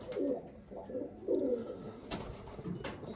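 Young 2025 pigeons cooing softly in a series of low, repeated coos, close by, with a couple of brief sharper noises and no speech.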